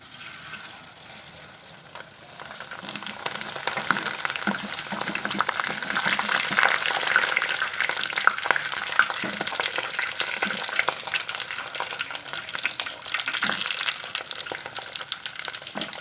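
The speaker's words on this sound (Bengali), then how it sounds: "এখন একটু করে সাবু দিয়ে দিয়ে ভেজে নিব" Sago pearls frying in hot oil, a continuous bubbling sizzle close by that swells after the first couple of seconds, with small crackles and clinks throughout.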